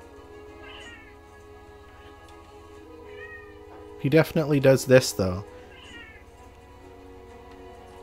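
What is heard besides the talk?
cat meowing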